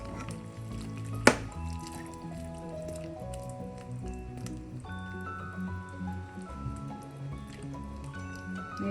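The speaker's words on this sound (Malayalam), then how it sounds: "ഈ സമയം നമുക്ക് ഇളക്കി കൊടുത്ത ശേഷം" A spoon stirs thick Kerala chicken curry in a pan, making soft wet squelching and sizzling sounds under steady background music, with one sharp clink near the start.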